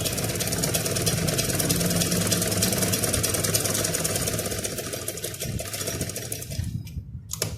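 A sewing machine, under repair for a stitch problem, runs fast and steady while stitching a double layer of fabric, a loud rapid needle chatter that stops abruptly near the end.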